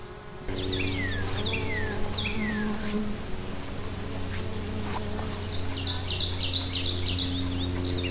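Continuous low buzzing of many honeybees, steady and close, with birds chirping intermittently in the background.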